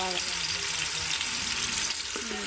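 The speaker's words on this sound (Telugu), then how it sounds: "ఇంకా ఇది కొంచెం బ్రౌన్ కలర్ వచ్చేదాకా వేయించుకున్నాం" Onion and green chili paste frying in hot oil in a pan, a continuous bright sizzle with soft stirring scrapes, close and steady throughout.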